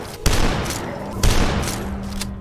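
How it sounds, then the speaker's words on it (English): Super shotgun blasts in the retro shooter game DUSK, two heavy booming shots about a second apart, each with a short ringing tail, loud and close, with faint talking. "the super shotgun of DUSK does not disappoint"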